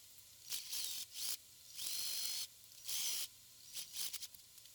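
Seam ripper cutting stitches to remove a garment pocket, heard as several short, faint, close scratchy bursts separated by brief pauses.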